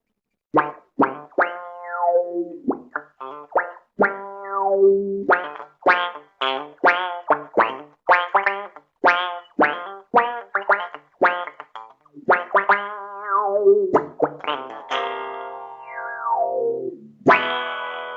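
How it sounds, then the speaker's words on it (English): Sonuus bass funk envelope filter on a bass, a long run of plucked notes with quacky, sweeping wah-like vowel shapes rising and falling, some notes held and bending, alone and close with no voices. "This is more like a bass funk envelope sound."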